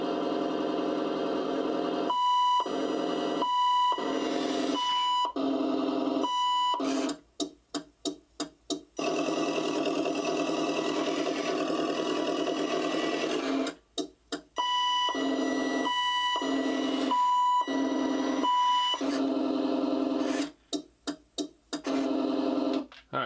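Repeated electronic beeps from a 1/16-scale RC Freightliner Cascadia truck reversing, steady evenly spaced pulses over a constant engine-like hum, with brief pauses between runs.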